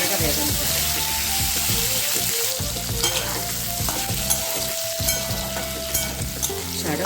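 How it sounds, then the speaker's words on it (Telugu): Ivy gourd (dondakaya) pieces frying in a pan for an Andhra-style curry make a loud, constant sizzle with stirring scrapes, while soft background music plays underneath. "వేగిన తర్వాత కొంచెం ఇది వేగుతూ ఉండాలి."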